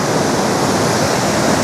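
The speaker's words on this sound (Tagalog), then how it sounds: "Mas lalong malakas yung flow ng tubig nyo." Bunga Falls pours down in a strong, dense rush of water, a loud and unbroken roar of white noise that stays even from start to finish.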